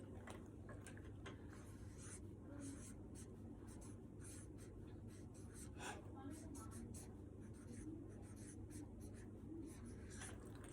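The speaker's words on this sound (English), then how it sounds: "So I'm going to write her name down." Handwriting an author's name with a pen or marker on paper, a run of short scratchy strokes in quick, uneven rhythm, close and quiet, with soft talking in the background.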